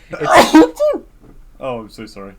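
A single sharp sneeze bursts out close to a podcast microphone, quickly followed by a short spoken apology.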